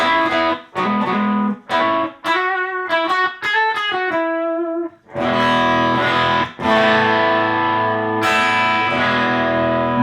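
Distorted electric guitar with a compressor on plays choppy chords and a quick riff, then sustained ringing chords, smooth and even in level, loud and close.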